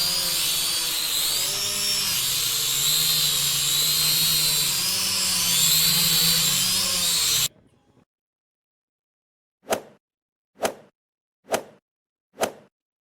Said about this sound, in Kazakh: дрон.